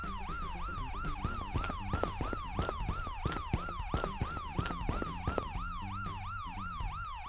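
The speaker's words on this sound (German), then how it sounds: "Die Sirene ist immer noch genauso laut" A wailing emergency siren in the life-simulation video game New Life, rising and falling in a steady repeating cycle, loud and continuous throughout over a low engine-like rumble.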